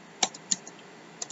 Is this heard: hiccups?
no